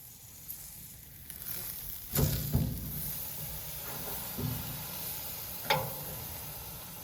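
Seasoned meat sizzles quietly on a camp grill outdoors. A low hiss holds steady under a few sharp clanks and pops that sound like handling at the grill.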